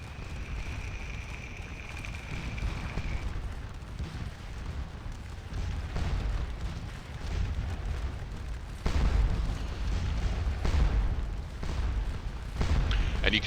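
Cannon fire and explosions in the video game Scourge of War Remastered: a continuous low rumble with repeated dull booms, a few heavier blasts landing near the end, with no talk over them.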